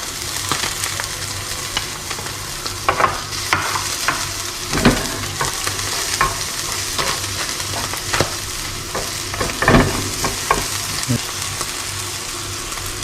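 Garlic and onion sizzling in oil alongside Spanish sardines in a home kitchen, a steady close frying hiss broken by frequent stirring scrapes and clicks of a utensil in the pan.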